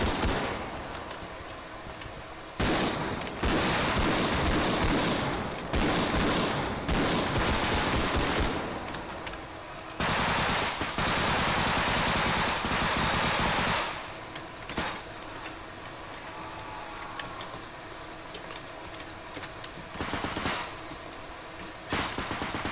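Video-game Uzi submachine gun fire rips out in long, loud automatic bursts separated by brief pauses.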